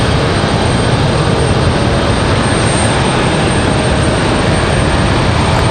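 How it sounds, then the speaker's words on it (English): A CRJ regional jet at Raleigh-Durham International Airport, heard as a loud, continuous broadband engine roar and rush that stays steady throughout with no talking. "Sounds like one of our CRJs"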